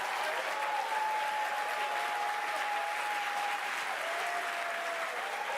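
Dense, steady applause from a large audience at a Dead by Daylight anniversary event, continuous clapping filling the whole stretch with a faint tone beneath.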